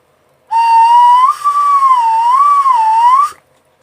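Homemade wet-clay ocarina gives a loud, pure whistling tone whose pitch glides up and down as a finger slides out of a hole, like a slide whistle. The note is held for about three seconds, then stops.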